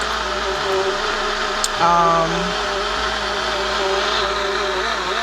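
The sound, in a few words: ZHENMI portable blender running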